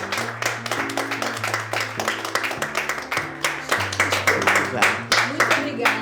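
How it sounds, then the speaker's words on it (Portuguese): An audience at a Brazilian women's cinema event breaks into lively applause, many hands clapping in a dense, steady burst that continues throughout, with some background voices and music mixed beneath. "Eu queria pedir uma salva de palmas para..."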